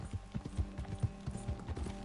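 Horse hooves clip-clop in a steady, quick rhythm in Red Dead Redemption 2, a soft, moderately close plodding with no voices.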